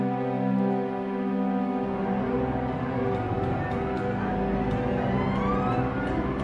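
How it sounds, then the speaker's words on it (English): A Realitone Sunset Strings patch with its clockwork effect swelling in as the mod wheel rises: sustained string tones with a ticking, mechanical texture that grows busier and brighter over time, played steadily and loud. "I could go for something really mad, like for example the clockwork, which is an effect"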